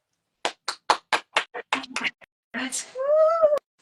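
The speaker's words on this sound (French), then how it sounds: "On peut s'applaudir." About a dozen close, crisp hand claps in a quick burst at the end of a workout session, followed by a person talking and a short high-pitched vocal exclamation.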